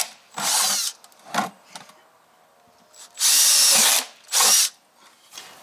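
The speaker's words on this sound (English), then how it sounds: "So we're going to drill some holes in it." A power drill whirs in several bursts, two long and two short, with brief quiet gaps between them as holes are drilled.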